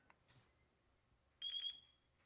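A single short electronic beep from an RC radio transmitter binding to a receiver, bright and clean, sounds once in near silence after a faint click.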